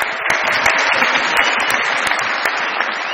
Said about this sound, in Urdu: بہت ساری تالیاں خان صاحب کے لیے۔